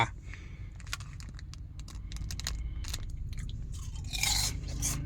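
Close, crisp crunching and chewing of grilled food, a steady run of sharp bites and munches over a low background hum, with no talking.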